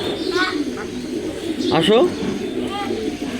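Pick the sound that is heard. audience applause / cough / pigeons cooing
pigeons cooing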